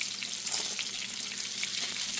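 Thick-cut Great Value bacon frying low and slow in a pan, a steady soft sizzle and crackle that holds evenly throughout with no voices.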